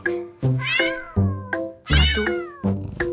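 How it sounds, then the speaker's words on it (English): A cat meows loudly and close by, giving about five separate drawn-out meows with short pauses between them, alone with no other sounds. "A tiny little cat."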